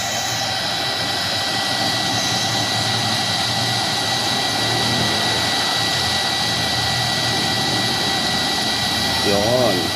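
A Yamaha Sniper 150 motorcycle's radiator cooling fan runs steadily with a constant whirring roar from beginning to end, and a voice talks briefly over it.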